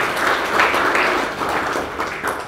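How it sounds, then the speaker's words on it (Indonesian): A church congregation at an Advent sermon claps together in a steady swell of applause, with a few louder waves, heard alone without talk. "Kasih tepuk tangan itu Tuhan."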